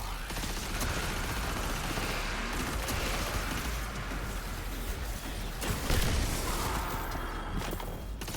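Curse Wall Explosion skill going off in a video game fight, a sustained roaring blast with crackling bursts and whooshing, and a louder surge near the end.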